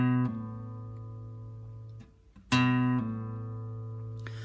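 A sustained guitar note rings and fades, then after a brief pause a new lift-off note sounds, slightly quieter, plucked close and alone.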